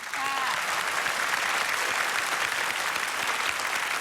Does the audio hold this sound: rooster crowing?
no